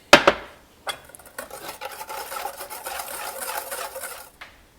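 A whisk scrapes and stirs hot vanilla-infused cream into eggs in a bowl, a few sharp taps followed by quick, continuous rhythmic rubbing, close and moderately loud.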